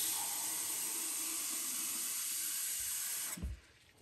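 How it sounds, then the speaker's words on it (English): Hot water runs steadily from a tap into a coffee mug, a close, even hiss and splash that cuts off near the end, leaving a brief low clunk. "I will run the water for a little bit, and then fill up my coffee mug."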